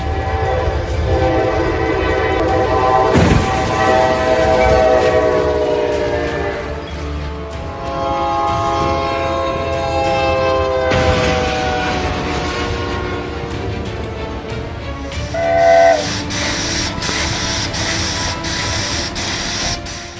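A train rolls past with a long, loud horn sounding over steady rumbling wheels and clatter, the horn tones rising and swelling before the carriages rush by up close.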